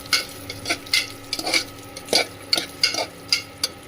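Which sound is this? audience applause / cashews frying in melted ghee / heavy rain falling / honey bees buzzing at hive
cashews frying in melted ghee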